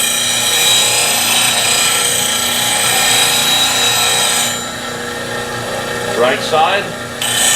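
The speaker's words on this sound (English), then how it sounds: "So this is me sharpening one of my gouges." A bowl gouge is held against a bench grinder for sharpening, giving a steady loud grinding whir that fades partway through, with a brief spoken remark near the end.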